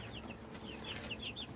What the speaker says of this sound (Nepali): यता एउटा ठुलो कुखुराको खोर छ